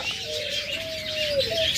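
Pet birds such as lovebirds, budgerigars and cockatiels chirp steadily in a bird shop, with one long sustained whistle-like call running through a dense, continuous layer of bright tweets.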